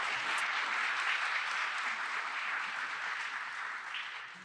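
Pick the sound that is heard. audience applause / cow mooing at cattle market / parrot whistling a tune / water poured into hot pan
audience applause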